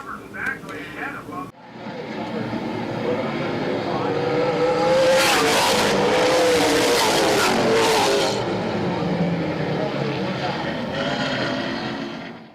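Race cars restart on a dirt-track speedway oval, their engines swelling from a low drone into a loud, sustained roar of acceleration as the pack passes close, while an announcer speaks over it.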